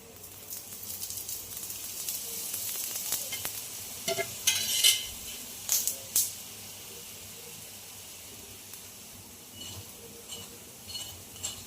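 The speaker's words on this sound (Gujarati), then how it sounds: "આ રીતે આપણે તેલથી તળવાનું છે" Spicy traditional Gujarati rotlo flatbread frying in oil, a continuous close sizzle broken by several sharp scrapes and clatters of a spatula turning it in the pan.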